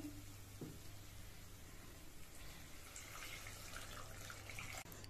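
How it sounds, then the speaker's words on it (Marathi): Hot water is poured into a pan of fried spices and yogurt for a paneer masala gravy, a faint steady trickle and wash of liquid under a low hum, continuing for several seconds. "आता आपल्याला त्यामध्ये गरम पाणी घालायचं आहे।"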